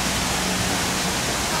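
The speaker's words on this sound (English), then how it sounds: "Look at this waterfall." A waterfall at an outdoor arts festival gives a dense, steady rushing roar of falling water, loud and continuous throughout, with no break in the wash of noise.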